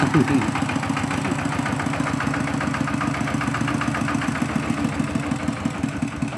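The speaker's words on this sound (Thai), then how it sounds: "ขี่รถไถมาเต็มเลย" A single-cylinder walking tractor runs close by at a rural Thai house-warming gathering in the morning, its engine putting in a steady, even rhythm, with people's voices faint around it.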